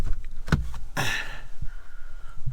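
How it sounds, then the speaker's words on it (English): A door at a camping spot is opened, with a sharp knock or latch click followed by a scraping, sliding rush of movement, then quieter shuffling; close and alone. "Let's open the door."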